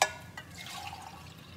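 Plain water is poured into a pot of chicken stock, starting with a sharp splash and then settling into a steady, close liquid pour and gurgle over a short stretch.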